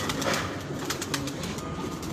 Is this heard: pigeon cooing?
yes